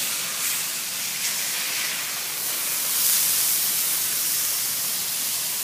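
Hamburger steaks sizzle steadily on a Blackstone 28-inch griddle, a dense, continuous hiss at close range that swells slightly midway, with no talking.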